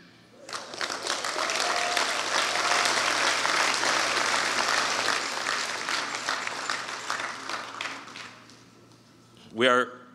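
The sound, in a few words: audience applause at a town hall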